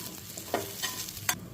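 Ginger, chilli and crushed peanuts stirred and roasted in a pan, a low steady sizzle broken by a few sharp scraping strokes of the spoon, close and without voices.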